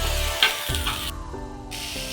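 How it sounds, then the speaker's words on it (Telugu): Masala for a chicken curry sizzles and fries steadily in a pan, a continuous close hiss with a brief stirring scrape partway through, no voices. "ఫ్రై చేసిందే మసాలా మొత్తం ఇలా ఫ్రై అయితే చాలు"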